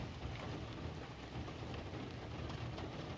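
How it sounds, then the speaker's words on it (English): Rain falls steadily in a dense, even hiss of drops on surfaces, moderately faint and continuous throughout with a low rumble beneath and no voices. "just laying here listening to the rain."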